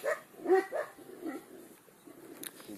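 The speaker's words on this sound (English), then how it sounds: "the wild dogs are sort of on our side" Wild dogs barking outdoors at a camp in Turkey, a few short yelping barks up front followed by fainter scattered calls, moderately distant, with no talking.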